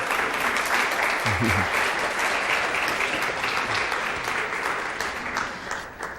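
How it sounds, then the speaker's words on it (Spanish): Steady applause from a crowd, dense clapping that holds for several seconds before tapering off slightly at the end. "Un aplauso para Juan y para José Luis, por favor."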